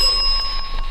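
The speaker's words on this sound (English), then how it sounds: "Bell noises." A ghost-hunting device plays ringing bell sounds during a haunted building investigation: loud, sustained metallic bell tones with a steady high ring and a few faint repeated strikes, with no talking.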